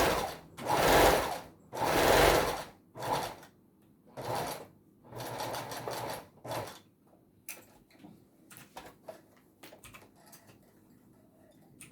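A sewing machine stitches the body of a small fabric Santa Claus Christmas doll, with several loud bursts of rapid mechanical whirring separated by pauses, then fainter short clicks and taps as the work is adjusted.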